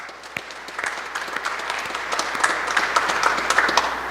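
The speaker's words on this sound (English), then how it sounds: "Can you give them a round of applause?" Audience applause for the sound and video technicians in the balcony of a hall, steady clapping from many hands that swells slightly toward the end, with no talk over it.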